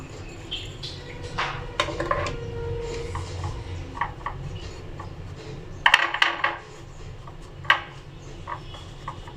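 Powdered milk and sugar mixed in a bowl with a spoon, with scattered close metallic clinks and scrapes against the bowl, irregularly spaced and louder in a cluster near the end.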